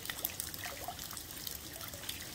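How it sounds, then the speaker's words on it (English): Water drops patter into a pool of water in a quiet, continuous trickle, a soft irregular dribble of small splashes heard close and faint. "water drops falling into a pool of water in slow motion"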